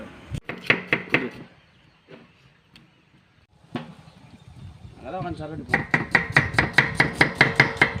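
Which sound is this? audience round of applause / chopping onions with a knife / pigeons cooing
chopping onions with a knife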